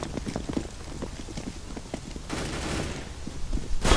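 Gunfire in Counter-Strike: Global Offensive, a dense burst of rapid shots crackling over a busy mix, with a sharper volley near the end.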